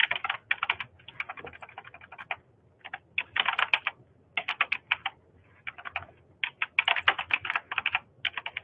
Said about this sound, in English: Can whoever's typing, please mute yourself?